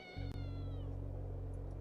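A cat in a snowy outdoor game scene lets out one drawn-out meow, its pitch sliding downward, heard clearly over a steady low hum, with no voices.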